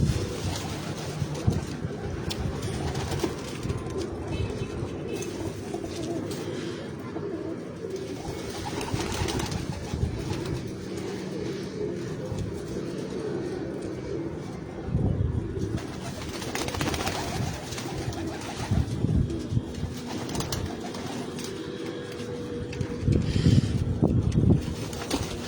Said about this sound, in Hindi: एक से बढ़कर एक नयाब कबूतर है सकते